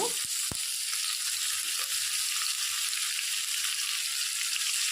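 Broiler chicken meat frying in a pan gives a steady, dense sizzle throughout, close and continuous with a couple of faint knocks at the start.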